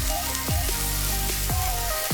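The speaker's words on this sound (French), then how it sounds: "On va les faire revenir jusqu'à ce que les courgettes et l'oignon soient translucides." Sliced zucchini and onion fry in oil in a pan, giving a steady, close sizzle with a few soft scraping stirs over it.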